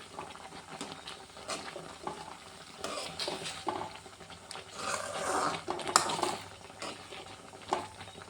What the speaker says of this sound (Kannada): ನಾನು ಇವಾಗ ತುಪ್ಪ ಸೇರಿಸ್ಕೋತೀನಿ ರೀ, ಸ್ವಲ್ಪ ಒಂದು ಸ್ಪೂನ್ ತುಪ್ಪ ಅದಕ್ಕೆ ಸಾಕ್ರಿ.